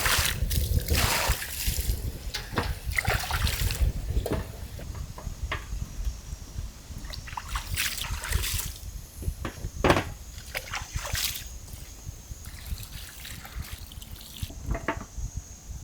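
Country chicken pieces are washed by hand in a vessel of water, giving repeated close splashes, sloshes and trickles with some clattering, fairly loud and uneven throughout, no talking.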